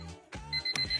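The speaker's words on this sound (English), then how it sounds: "What if your alarm clock didn't sound like this," Alarm clock ringing in a short burst of bright, repeated electronic beeps, close and clear, with no voices.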